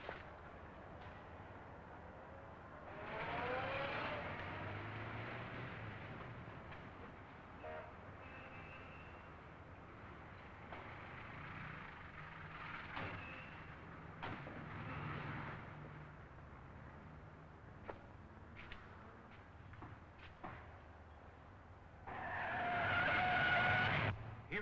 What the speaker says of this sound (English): Here comes that same car.